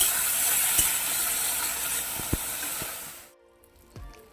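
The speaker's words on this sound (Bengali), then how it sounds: "এদিকে আমি কাঁকড়াগুলো ভালো করে ভাজা করে নেবো" Crabs fry in a pan in village-style cooking, a bright steady sizzle with a few light knocks of utensils before it suddenly cuts away to quiet.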